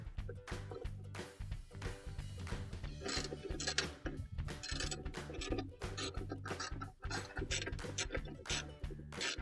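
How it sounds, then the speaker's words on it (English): A screwdriver or drill works screws out of a washing machine during a tub bearing repair, giving a steady run of ratcheting clicks and metallic ticks, close and continuous. "next thing we're going to do is just remove the screws out of here"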